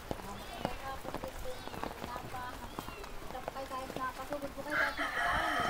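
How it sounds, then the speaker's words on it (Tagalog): Heavy, nonstop rain on a mountainside in Daet, with a rooster crowing and people speaking over the steady downpour, which swells louder toward the end. "Grabe yung ulan, walang tigil."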